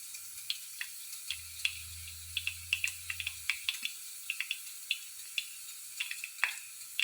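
Shallots, curry leaves and fenugreek frying in hot oil give off sparse, light crackles and pops that are close and fairly quiet, with a low hum for a few seconds.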